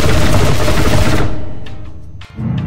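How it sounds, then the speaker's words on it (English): Rapid automatic gunfire in People Playground, fired without a scope, a loud dense burst of shots that cuts off partway, followed by a few faint scattered hits and a final low thump. "Now there is shooting without a scope."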